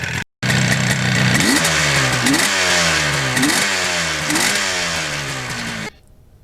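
A Yamaha RD 400 two-stroke motorcycle with its muffler removed revs hard several times in a row, each loud, raspy blip climbing in pitch before dropping back, then cutting off abruptly near the end.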